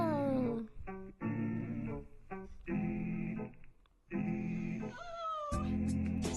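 A cat in a cozy video game meows repeatedly, several clear rising and falling meows separated by short pauses, with game music and sounds faintly underneath.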